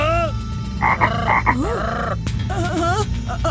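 Cartoon frogs croak in a quick series of bright, bouncy calls at the start of a frog race, loud and close, with no talking over them.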